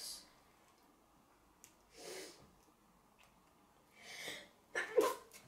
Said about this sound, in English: Sorry, just a little sneeze there.